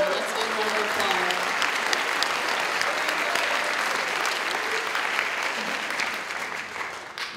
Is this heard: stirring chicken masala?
no